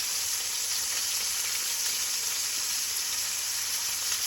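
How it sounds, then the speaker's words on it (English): A steak sears in a hot pan with crushed garlic scattered around it, producing a loud, dense, continuous sizzle that holds evenly from start to finish with no talking. "My steak is still searing on the other side."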